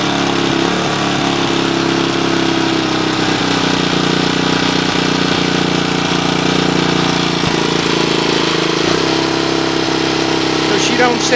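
A Suzuki DR200ES motorcycle with no air filter idles loudly and close after starting, a steady rough single-cylinder chug with slight unevenness throughout.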